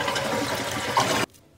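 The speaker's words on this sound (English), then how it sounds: "and I'm going to flush the toilet." A household toilet being flushed with its tank lid off, a steady close rush of draining water for about a second and a quarter that stops abruptly, leaving quiet room tone.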